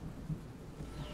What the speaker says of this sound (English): Rain, thunder, lightning.